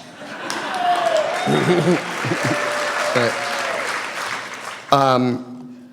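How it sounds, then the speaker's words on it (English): Audience at a Wall Street keynote applauding a fellow speaker, a diffuse round of clapping that runs under a speaking voice, with a brief louder burst near the end. "unless you give Suni another round of applause"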